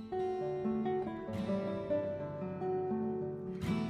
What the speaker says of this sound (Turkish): Bu bir gitar. Gitarın sesi böyle çıkar.